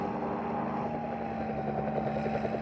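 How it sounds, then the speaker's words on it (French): A red helicopter flying low overhead gives a steady, droning engine and rotor hum, even and continuous, with no talk over it. "Là, presque au-dessus de nous! L'hélicoptère rouge!"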